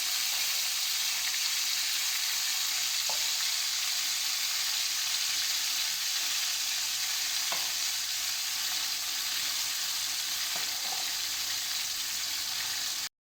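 Chicken Afghani boti frying in a pan over a medium flame: an even, continuous sizzle with a few faint crackles, steady throughout and with no talking.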